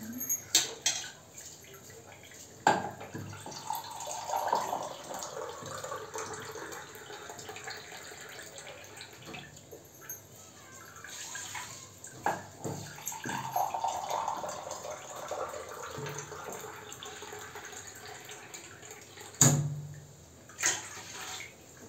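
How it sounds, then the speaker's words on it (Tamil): Coconut milk is poured into a pot of chicken chalna, a liquid pour and splash with a few sharp clinks and knocks, steady and close. "தேங்காய் பால் ஆட் பண்ணிக்கணும்."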